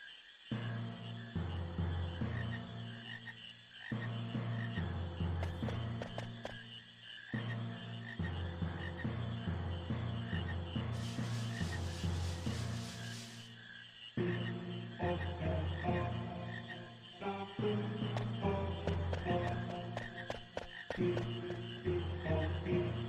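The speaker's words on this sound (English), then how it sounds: "It's pretty easy to catch frogs here." Frogs croak repeatedly in Final Fantasy IX, steady layered calls over looping game music that fills the scene, with brief pauses between phrases.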